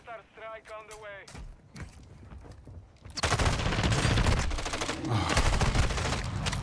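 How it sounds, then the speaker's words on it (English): Heavy gunfire and explosive blasts from a friendly mortar strike in Call of Duty DMZ roll in loudly after a quieter opening with brief talk and radio chatter, then continue as dense, overlapping bursts. "Friendly mortar strike on the way."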